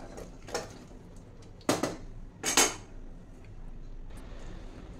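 A spoon stirs and scrapes through rice with mint and coriander leaves in a metal pan, giving a few sharp clinks and scrapes over a quiet background.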